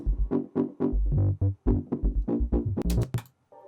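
Punchy, heavily distorted bass synth notes play in a quick rhythmic pattern, loud and gritty, ending in brief noisy bursts before cutting to silence.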